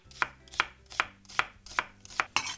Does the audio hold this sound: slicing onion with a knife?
yes